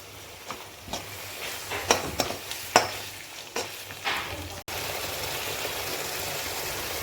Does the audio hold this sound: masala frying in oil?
yes